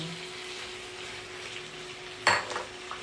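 Shrimp being stirred into a sizzling Cajun seafood sauce in a pan: a steady low sizzle, then a short clatter of stirring near the end, close by.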